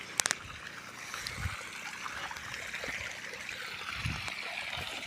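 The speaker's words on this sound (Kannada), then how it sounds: "ಸುಮಾರಿದೆ, ಇಷ್ಟು ಬರ್ತದೆ ನೀರು. ಫುಲ್ ಫೋರ್ಸಾಗಿ ಬರ್ತುಂಟು." Water rushing from the HDP outlet pipe of a 7.5 HP solar pump on a farm, a steady, moderately faint splashing flow with a few sharp knocks at the start.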